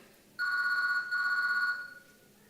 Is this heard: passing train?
no